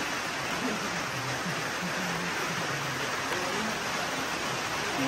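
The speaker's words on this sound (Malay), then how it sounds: "Oh, hujan sudah." Steady rain pours down in an afternoon downpour, a dense continuous hiss with no letup, fairly loud and close, with no voices over it.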